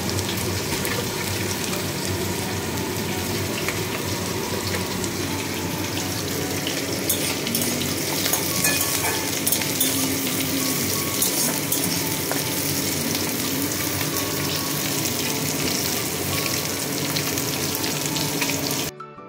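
Bitter gourd frying in a pan, with a steady broad sizzle and some watery, tap-like splashing sounds running continuously and fairly loud throughout, cutting off at the very end.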